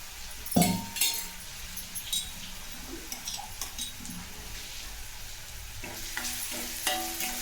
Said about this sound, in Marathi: मिरची छान फ्राय झाली आहे तेलात